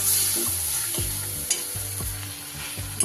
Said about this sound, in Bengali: এবার এগুলো ভালো করে একটু কষিয়ে নেব।